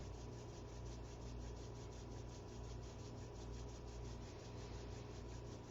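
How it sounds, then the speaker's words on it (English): Palms rub together briskly in a rhythmic, steady friction during a live-streamed yoga class, making a continuous close, dense swishing with no talking. "Let's bring the hands to the heart center and rub them together."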